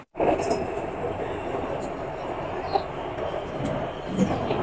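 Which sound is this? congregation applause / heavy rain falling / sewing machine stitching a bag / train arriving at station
train arriving at station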